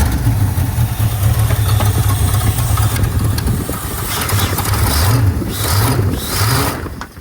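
A 1964 Ford Thunderbird engine that has sat for decades runs at a steady, loud idle throughout, with a low, even rumble and slight swells in revs, close by and with no talk over it.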